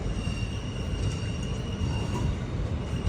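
Near and loud, the Chemmozhi Express pulls into a platform at Mannargudi station, its rolling carriages giving a constant low rumble under a thin, steady squeal of braking wheels.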